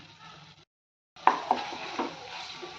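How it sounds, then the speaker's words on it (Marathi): Egg curry gravy with added water roasting in a pan: a soft sizzle, a short silent gap, then scraping stirs with a few sharp spoon knocks against the pan, close and moderately loud, no talk. "ह्याच्यामध्ये पाणी घालून हे व्यवस्थित भाजून घेऊयात म्हणजे खाली चिटकणार नाही आणि ग्रेव्ही ही छान भाजली जाईल"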